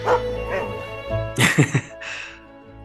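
A cartoon dog stuck in a van gives a few short, high yips and whimpers, with a brief burst of sharper barks in the middle.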